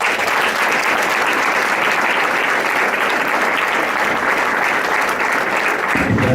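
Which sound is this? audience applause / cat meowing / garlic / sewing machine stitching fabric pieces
audience applause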